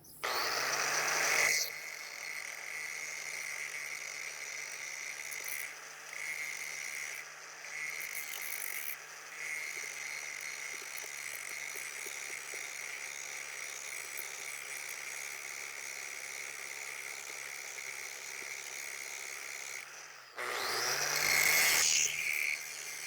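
Power tool grinding metal dice in light, unhurried passes, a steady whining drone running for about twenty seconds with brief dips as the tool lifts off the metal, opening and closing with louder bursts.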